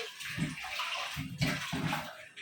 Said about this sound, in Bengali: টকটার জন্য মাছের মাথাগুলা এক্সট্রা ধুয়ে নিতেছি